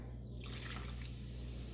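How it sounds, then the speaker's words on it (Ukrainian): Kefir poured from a container into a vessel in a home kitchen, a short liquid splash and trickle that swells then settles, close and fairly quiet over a low steady hum. "Де в нас був кефір, ми його наливаємо."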